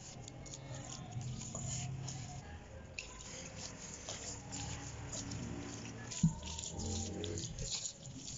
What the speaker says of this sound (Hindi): अब इसमें थोड़ा थोड़ा पानी डालते जाएं और इसे मिक्स कर